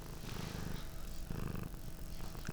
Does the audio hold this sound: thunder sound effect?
no